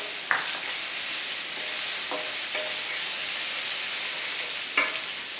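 Red onions warming in a pan give a soft, steady sizzle with a few faint scrapes of stirring, quiet and close with no talking.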